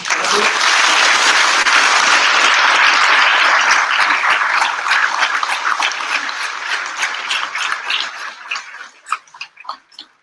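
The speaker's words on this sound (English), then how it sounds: "And now a huge round of applause to all the web development." Loud, dense applause from a graduation ceremony audience fills the air, then thins into scattered, uneven claps that fade toward the end.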